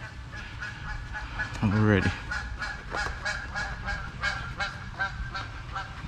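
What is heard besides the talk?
geese honking while flying overhead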